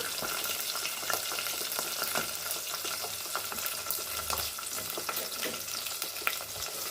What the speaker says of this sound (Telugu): తర్వాత క్యారెట్, టమాటాను కొంచెం మగ్గనిద్దాము.